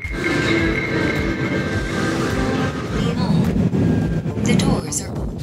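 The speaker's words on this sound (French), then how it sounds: "on va aller faire un petit tour en métro" A Seoul subway metro train makes a continuous rumbling, rushing ride noise with rattles and some higher squeals, while people talk over it.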